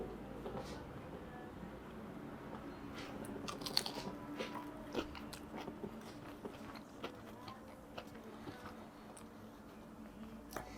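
Someone bites into and chews fish and chips dipped in curry sauce, a quiet, close sequence of soft crunches and chewing sounds spread irregularly across the stretch.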